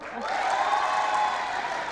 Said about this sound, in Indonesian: Tepuk tangannya mana yang paling meriah?